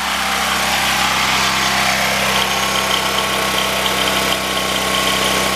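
A generator engine running during a gasifier cold start makes a loud, constant, close-up droning hum with a steady low throb and no pauses.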